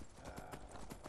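Horse hooves clip-clop in a steady, quick rhythm of sharp thuds in Skyrim VR, fairly close and moderately quiet, with a soft murmur of background sound.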